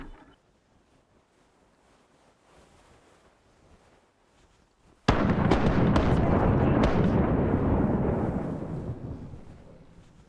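A cannon broadside from a ship in a Mount & Blade and Sid Meier's Pirates mix: after a quiet stretch, a sudden heavy boom followed by a few more blasts, then a long rumbling roar that slowly fades.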